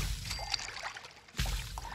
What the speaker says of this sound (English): We can, look, we can make purified water.